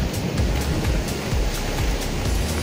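Winter sea waves wash onto the shore at Anapa, a continuous loud roar of surf with repeated rushes of breaking water and wind noise, close by and without talk.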